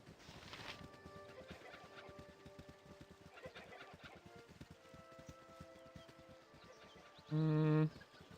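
Chickens clucking in the fantasy role-playing game Baldur's Gate: Enhanced Edition, soft repeated clucks over quiet ambient game sound, ending with a short loud interface tone.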